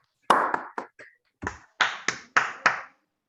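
Scattered, sharp claps from a Zoom call audience after a talk, about nine separate hits in uneven bursts over three seconds, with no talking.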